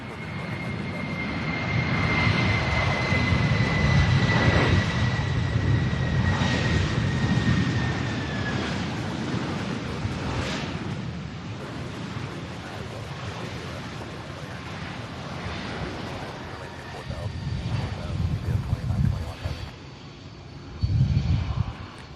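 A 23-year-old UPS cargo plane on flight 3197 at Louisville's SDF airport, a broad steady jet roar heard from a distance with a whining engine tone, swelling and easing over twenty seconds with low rumbling surges near the end.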